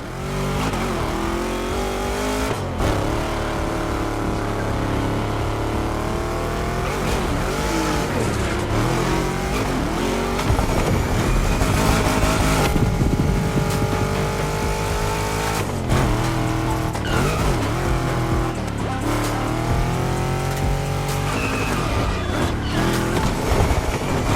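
A Ferrari 308 GTS drives through Hawaii in The Crew Motorfest racing game, its engine revving loudly and continuously, rising and falling in pitch throughout.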